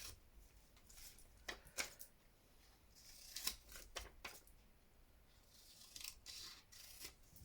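Sticky craft scissors snipping through paper, a run of short crisp cuts and rasping slides at close range, irregular in rhythm and fairly quiet, with no talk.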